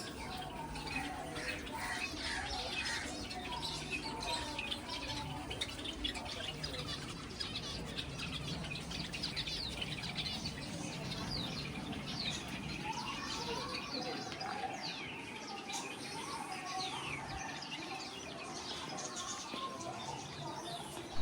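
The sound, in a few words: small birds chirping in a cage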